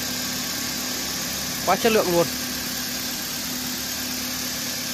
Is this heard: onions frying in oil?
no